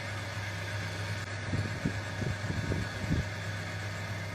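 A steady, low engine hum idles throughout, with a few faint knocks and thumps rising briefly near the middle.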